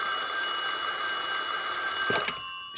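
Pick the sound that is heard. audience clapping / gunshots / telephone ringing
telephone ringing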